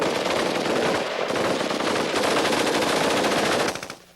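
A Stoner machine gun firing one long continuous burst of rapid, dense reports, loud and sustained for about four seconds before stopping abruptly.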